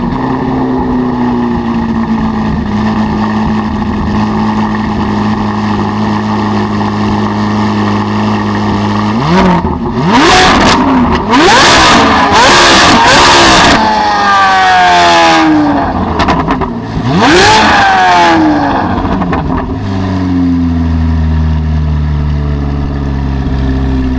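A Chevrolet C8 Corvette Z06 idles with a loud, steady burble, then revs sharply several times, rising to a high, screaming wail before settling back to idle, close and with no talking.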